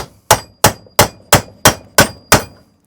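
A hammer strikes a socket to punch a roller bearing out of a Lawnflight 553 Pro Kaaz lawnmower, giving seven evenly spaced, sharp, close metallic blows with no talking.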